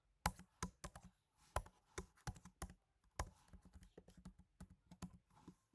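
Keys clatter quickly and steadily on a computer keyboard while text is typed, with close, crisp clicks in short bursts and brief pauses between them.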